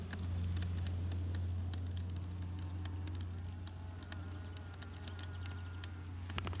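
A steady, dense buzz of many honeybees inside a hive fills the clip, dotted with faint, irregular clicks and a low hum underneath.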